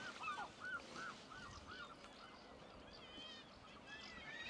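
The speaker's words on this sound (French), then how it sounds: "Il y a des oiseaux dans la falaise." Seabirds call from a sea cliff on the Scottish coast: faint, repeated honking cries in short bursts early on, then sparser calls over a soft outdoor wash of wind and surf.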